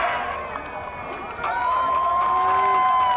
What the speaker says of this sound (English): Crowd over there making all that noise.